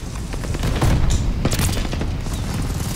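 A grenade explosion and gunfire in a video game: loud rapid bursts of shots with heavy booming impacts that overlap densely for three seconds, close and intense.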